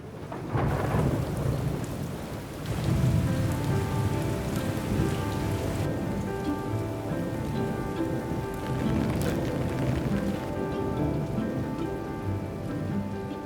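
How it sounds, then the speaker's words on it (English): Steady heavy rain pours down, a dense continuous hiss with a low rumble of thunder rolling underneath. "it wouldn't be summer without some heavy rain"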